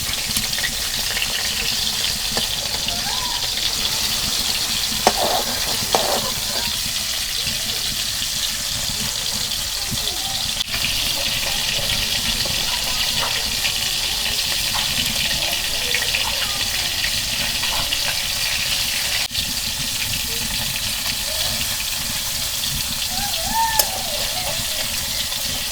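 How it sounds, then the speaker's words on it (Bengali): Silver carp frying in a very hot pan, a continuous loud sizzle and crackle that holds steady throughout with only faint occasional pops. "মাছ ভাজা হচ্ছে"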